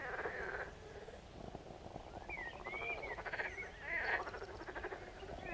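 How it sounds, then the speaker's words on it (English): Frogs croaking in chorus beside a canal at dusk, a dense, continuous wash of rhythmic rasping calls at moderate distance, with a few louder nearer croaks rising over the chorus. "the frogs are absolutely going mad"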